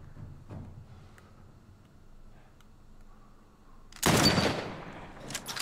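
Gunshots in the video game The Last of Us Part 1, with a quiet, low rumble and a few faint ticks giving way to a sudden loud burst of fire near the end.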